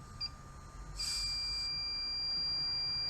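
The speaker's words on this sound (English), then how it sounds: "Here's my detector. I just want to test it" An HVAC refrigerant leak detector gives a short beep, then a brief burst of harsher tone, then a thin steady high-pitched whine over faint background hiss. There is no talking.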